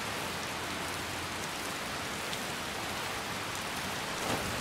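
Heavy, unbroken rain in the video game Skyrim, a thick close hiss of falling drops that holds level throughout with nothing else over it.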